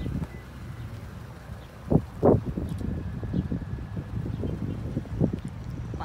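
Steady wind gusting outdoors outside a Meijer store under cloudy skies, a continuous low rush with a few louder bursts and faint rustling.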